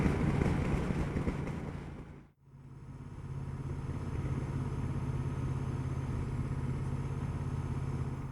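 Moto Guzzi motorcycle ridden slowly in a 20 mph limit, a steady low engine hum with wind rush that dips briefly to near silence, then returns and holds evenly.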